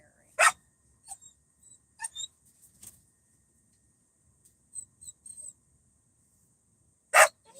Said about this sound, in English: Come on, stop barking.